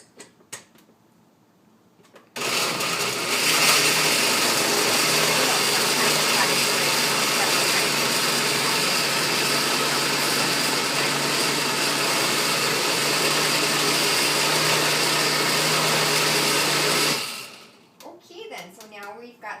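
A kitchen blender whirls oranges and apples for muffin batter, a loud steady roaring whir that kicks in after a quiet start, runs continuously for about fifteen seconds, then winds down and stops.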